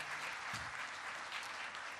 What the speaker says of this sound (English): Please give her a round of applause for